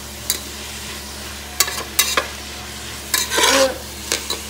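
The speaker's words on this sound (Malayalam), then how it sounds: "ഇത് നമുക്ക് നന്നായി വഴറ്റി കൊടുക്കാം" Tomato, carrot, beans and onion are sautéed in a pan for chicken biryani: several sharp spatula scrapes and stirring strokes over a light sizzle, close and fairly loud.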